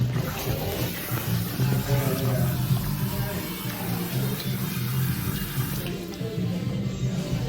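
Running water rinses hair at a salon sink during a blonde color correction, a steady close splashing wash with faint voices murmuring underneath.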